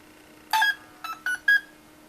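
A short run of electronic beeps from a vintage Traxxas RC car's speed controller starting up, one longer tone followed by three quick chirps, clear and close against a faint steady hum.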